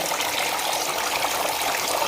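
A small homemade fountain runs with a steady, close rush of falling water that keeps an even level throughout.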